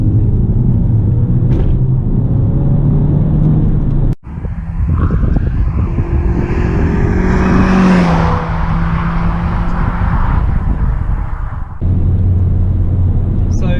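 A loud Renault Clio 197 engine rumbles steadily, briefly cuts out, then revs up and drops back to a low idle, heard close from inside the car.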